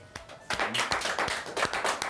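A small group claps steadily for a sales team in a cold-calling contest, the dense patter starting after a few scattered claps and continuing evenly to the end.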